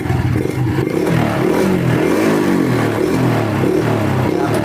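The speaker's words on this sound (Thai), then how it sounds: "เวลาเร่งเครื่องเนี่ยครับ เร่งเครื่องเนี่ยมันจะวูบนะครับ" A Honda Wave 110i motorcycle with a suspected faulty MAP sensor is revved, the close, loud engine rising and then sagging and stumbling instead of climbing cleanly, with no talk over it.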